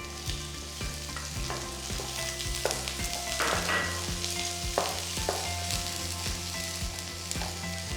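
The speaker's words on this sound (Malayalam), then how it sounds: "വെളുത്തുള്ളിയുടെ ഇഞ്ചിയുടെ നല്ലൊരു മണം വരുമ്പോൾ അണിയൻസ് ആഡ് ചെയ്യാം. ഒരു സവാള നീളത്തിലരിഞ്ഞാണ് ഇട്ടേക്കുന്നത്." Sliced onion frying with garlic and ginger in oil, a steady crackling sizzle broken by spatula scrapes and stirring knocks against the pan, close and moderately quiet.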